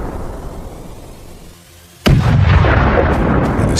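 Ukrainian artillery strikes a Russian vehicle convoy on a narrow road: a low rumble of distant fire fades, then a sudden loud blast at about two seconds is followed by sustained heavy roaring and crackling.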